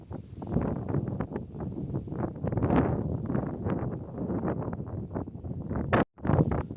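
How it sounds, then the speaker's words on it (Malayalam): Wind rushes steadily across tall grass in the misty Idukki hills, a dense, rumbling roar buffeting the microphone nearly without pause, cut briefly by a sharp click near the end. "കാറ്റിൻ്റെ ഒച്ച ഇഷ്ടപ്പെടുന്നുണ്ടോ"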